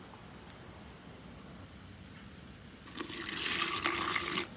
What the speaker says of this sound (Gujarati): હવે આપણે રેડી દઈએ એમાં થોડુંક પાણી